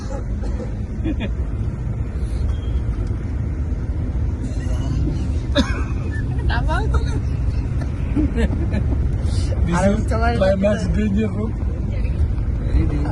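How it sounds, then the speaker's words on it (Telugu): Bus travelling along the edge of a mountain road between Delhi and Shimla-Manali, its engine rumbling and cabin rattling steadily throughout, with passengers chattering over it. "జస్ట్ ఎడ్జిలో పోతుంది బస్సు"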